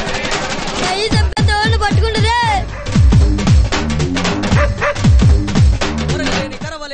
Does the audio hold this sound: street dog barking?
yes